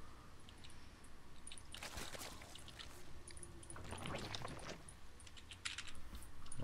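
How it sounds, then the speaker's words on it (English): Rapid, furious clicking and typing on a computer keyboard, quiet and close, coming in busy bursts over a low background hiss. "We hear furious clicking and typing"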